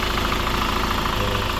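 A Hyundai Grand Starex engine idles steadily with a rough, knocking rumble, close and loud, continuous with no talk.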